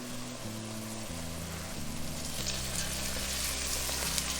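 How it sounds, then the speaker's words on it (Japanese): Onions and carrots sauté over low heat in a pan for a lamb tongue ragù, giving a soft, even, continuous sizzle that swells slightly toward the end, close and without voices. "玉ねぎ入れたら弱火で炒めます。"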